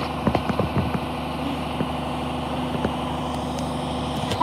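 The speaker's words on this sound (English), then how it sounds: "we are going to record the garbage truck out of a random" A garbage truck idles at an apartment complex dumpster cage with a steady low engine hum, while light clanks and knocks sound intermittently over it.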